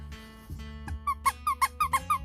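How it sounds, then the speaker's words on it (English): Squeakers in the paws of a plush toy sound in a rapid run of six or seven high, short squeaks, close and clear, following a few softer handling noises. "They squeak!"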